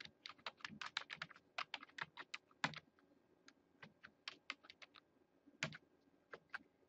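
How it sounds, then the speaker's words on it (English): Someone types on a computer keyboard, pressing the tab key between entries. The keystrokes come as bursts of close, crisp clicks with short pauses between them in a quiet room. "As I type in, I'm just hitting the tab key on the left side of my keyboard to move from cell to cell."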